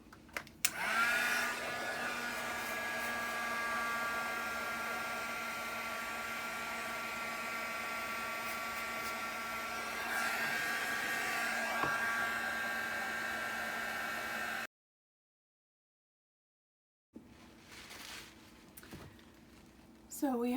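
A handheld hair dryer blows close and steady, drying paint splatters on a small floorboard or tabletop craft surface; its whirring hum runs unbroken, cuts out abruptly near the end, then brief handling noises follow.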